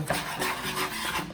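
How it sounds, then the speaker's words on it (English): A whisk scraping steadily through a bowl of flour and Parmesan cheese, a soft, continuous close rasping and rubbing with gentle rhythmic swells. "I'm gonna get a whisk and just mix the Parmesan"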